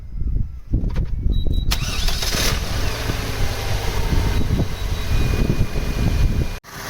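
An Opel Vectra B 2.2 16V engine cranks and catches near the start, then settles into a steady idle that runs continuously until a brief cutout near the end.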